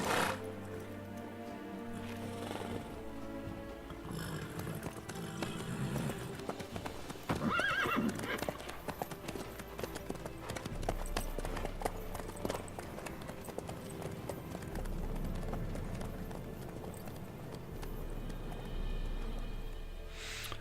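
Horse hooves clip-clop at a steady trotting rhythm in the video game The Witcher 3, with a whinny partway through and continuous game ambience and music underneath.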